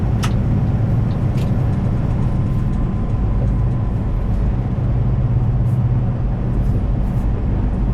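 Steady road noise of a Kenworth T680 midroof truck cruising on a highway, a constant low rumble and tire hum with no talking.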